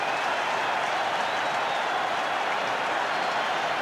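Stadium crowd roaring and applauding after a New Zealand try in a Rugby World Cup match, a dense, steady wash of cheering and clapping that holds loud throughout with no pauses.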